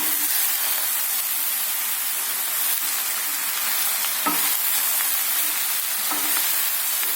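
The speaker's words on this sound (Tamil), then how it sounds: "அடுப்பை சிம்மில் வச்சுட்டு ஸ்லோவில் ஒரு 10 நிமிஷம் 15 நிமிஷம் எண்ணெயிலேயே வதங்கட்டும்." Ridge gourd sautés in oil over a low flame with a dense, constant sizzle close by and a couple of soft scraping stirs, with no talking.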